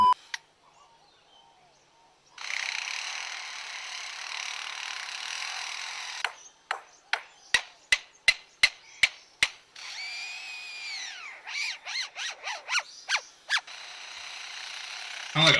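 Lyrebird at Adelaide Zoo mimicking a construction power drill: whirring drill-like buzzes, then a rapid series of sharp clicks and warbling electronic whines, all voiced by the bird, fairly close and alone.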